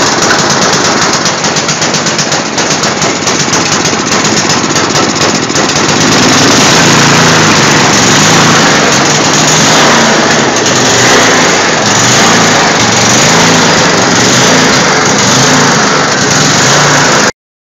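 An MTD Yard Man snowblower's small engine runs loud and steady close by, a continuous rattling, buzzing drone with a choppy, pulsing start that smooths out as it settles into an even idle.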